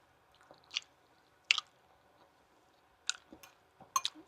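Someone eating a mouthful of rice with hot sauce in an RV kitchen, soft wet chews and smacks coming in a few separate close bursts against quiet background, with no speech.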